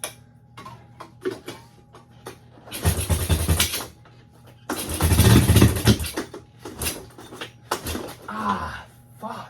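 A John Deere LT185 lawn tractor engine turns over in two strong bursts of cranking and sputtering running, separated by quieter gaps with scattered clicks, nearby and fairly loud.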